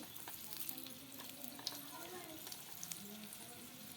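Soft continuous sizzling of luchi frying in oil in a wok, fairly faint, with a few light clicks and a quiet voice in the background.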